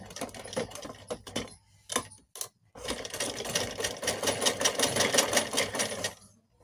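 A sewing machine stitches suit fabric up close: a few short, broken bursts of stitching, then a longer continuous whirring run that stops near the end.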